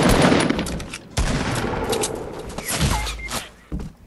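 Rapid bursts of automatic gunfire in Fortnite rattle loud and close in several clustered volleys with short gaps between them, with no voices.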